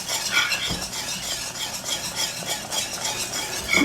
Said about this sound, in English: And then we're gonna whisk in the cheese.